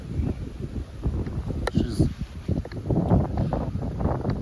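Steady wind buffets the microphone with a rough, gusty rumble while flat feeder fishing, along with faint water lapping nearby.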